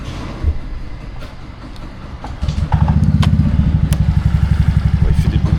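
A scooter engine fires up after a moment of background noise, settling into a loud, close, rapid putter at idle.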